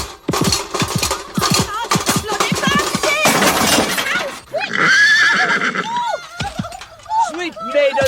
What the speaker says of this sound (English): Come, come, Rocinante, lift up your head, strike fire from your hooves